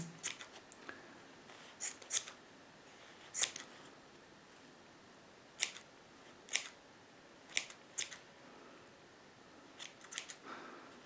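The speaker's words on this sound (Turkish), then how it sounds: "Böyle makasınızın ucunun girdiği kadar grup grup keselim." Scissors snip through a bundle of yarn while a pompom snowman is made, about a dozen crisp, close cuts spaced irregularly over a quiet background hiss.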